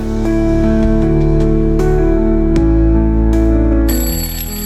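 An alarm clock rings loudly and steadily with sustained electronic tones and repeating bursts, the pattern shifting near the end, with no talk over it.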